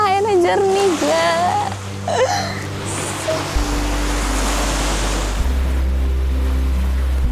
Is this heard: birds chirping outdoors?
no